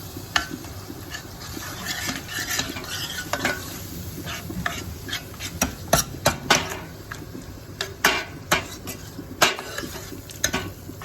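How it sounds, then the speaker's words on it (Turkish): Minced meat with black pepper is stirred in a sizzling pan during lasagna prep, with a steady frying hiss under repeated sharp scrapes and taps of a utensil against the pan, close and moderately loud, no talk. "Birazcık da Karabiber de kıymalı karabiber de seviyorum. Evet, böyle karıştıralım onu."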